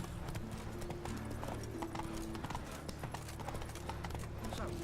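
The horse Roach trots in The Witcher 3 with quick, even clip-clop hoofbeats over a game soundscape, fairly quiet, with someone talking over the steps.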